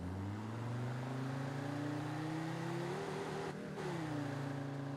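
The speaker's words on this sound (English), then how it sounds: "If the battery's got enough power to start this engine." A car engine idles steadily in the driving game Drive Beyond Horizons, a low droning hum that rises slightly in pitch and then dips with a brief throttle change.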